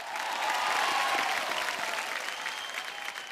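Studio audience on a Hindi TV quiz game show applauds all the competing teams, a full burst of clapping that swells early, then gradually thins and tapers off toward the end.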